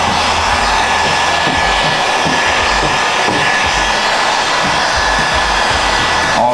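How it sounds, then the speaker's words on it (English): A heat gun blows steadily and loudly while heating freshly applied vinyl graphics to set the edges, a continuous hair-dryer-like roar with no voices. "I always like to go back over it with a heat gun, make sure all your edges are down"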